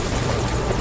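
A helicopter in the video game Metal Gear Solid V drones loud and close, a dense steady rotor roar with no voices.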